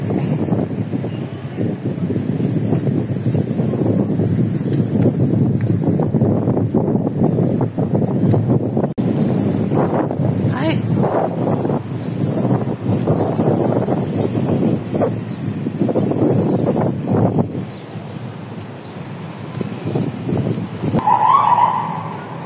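Steady wind buffeting the microphone by the bay at Manila's MOA, a continuous loud rushing roar with gusty low rumble throughout and a brief brighter tone near the end.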